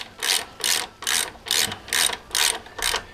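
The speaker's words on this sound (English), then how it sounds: "what I like to do is spin the wheel after I tighten each thing up" A Yamaha FZR motorcycle wheel spun by hand after tightening, giving seven evenly spaced ratcheting clicks close by, each a short burst of mechanical clatter with brief pauses between.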